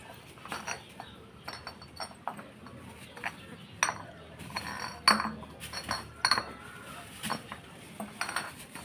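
Glass bottles clink and knock together repeatedly as a batch of nineteen sold bottles is handled and counted, with irregular sharp chinks of varying loudness throughout.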